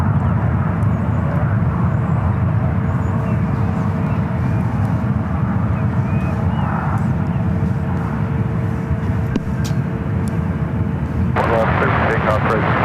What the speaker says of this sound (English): Swiss flights 38 coming in from Zurich, 777 at 300 yards